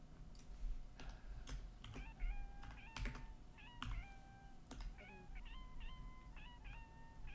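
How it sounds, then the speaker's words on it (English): Repeated short, high cat meows, several in a row, over light clicking of keys, fairly quiet and close. "Does he make that meow sound when he wants attention?"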